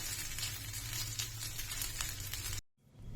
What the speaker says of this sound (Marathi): तुपावर तो आपल्याला छान परतून घ्यायचं आहे